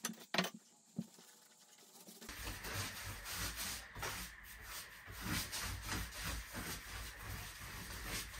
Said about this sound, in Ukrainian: можна шліфмашинкою рівняти